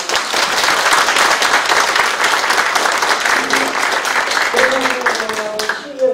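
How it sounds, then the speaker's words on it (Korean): Applause from citizens at a town-hall dialogue meeting with the mayor in Mogafaun, Icheon: steady, loud, full-room clapping that holds for several seconds before a voice starts speaking as it fades. "우리 박수 한번 쳐주세요"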